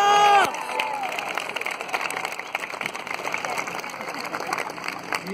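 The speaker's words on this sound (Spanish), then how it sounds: "¡Aplausos, por favor!" An audience at a New Year's celebration applauds and cheers in a sustained burst of clapping after a brief loud voice at the start, filling the space at moderate volume.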